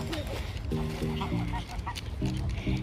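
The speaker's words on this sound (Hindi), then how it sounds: "ये देखें, डक्स को खाना दिया जा रहा है।" Ducks in a park being fed give repeated short honking quacks in loose bursts, fairly faint with outdoor background noise.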